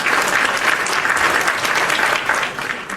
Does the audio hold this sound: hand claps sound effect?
yes